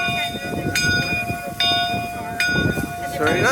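The bell of Canadian Pacific 2816, a restored steam locomotive, rings in steady clangs about every three-quarters of a second, bright and close, with people talking nearby and rail noise underneath.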